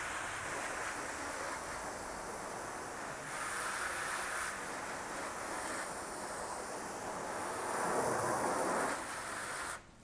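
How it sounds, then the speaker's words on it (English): Water rinsing a car wheel rim after a Pro Reactive iron remover and Eagle One Black and Plasti Dip test, a steady broadband hissing spray that swells louder near the end before cutting off abruptly, with no talking. "I'm going to rinse that off."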